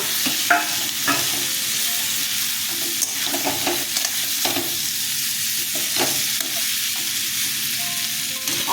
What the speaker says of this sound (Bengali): মশলাটা কষানো হয়ে গেছে ওলটা দিয়ে দিলাম